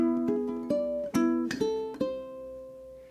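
Ukulele plays a short phrase, the first half of the fourth bar of Moonlight Sonata: a few plucked notes and chords at moderate pace, close and clean, the last note left to ring and fade.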